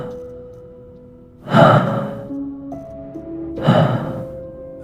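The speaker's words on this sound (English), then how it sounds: "I woke up to a sound, breathing, heavy, wet, right outside my bedroom window." Two heavy, breathy inhalations with a raspy, wet quality, separated by a quiet pause with a faint low tone, close and loud.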